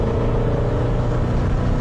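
A 1965 Alfa Romeo Giulia Sprint Speciale engine rumbles loudly and steadily while driving, a dense, close interior drone with no talking.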